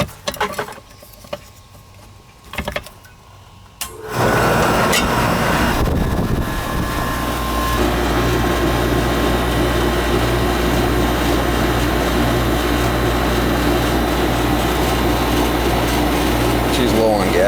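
A car engine starts after a quiet stretch, then idles loudly and steadily with the air conditioning compressor and fan running, the system low on refrigerant; a steady droning hum fills the rest.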